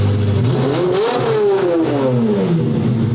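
Rebuilt Ferrari V12 with straight pipes revving while driving, a loud close engine note that climbs and then falls away across the run, with a rough raspy edge and no talk.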